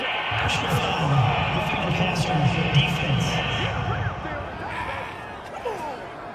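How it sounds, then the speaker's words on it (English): Simulated stadium crowd in Madden NFL 22 football game reacting to a penalty call, a dense, continuous roar of many voices sustained throughout with brief swells, while a commentator talks over it. "this crowd does not like that call"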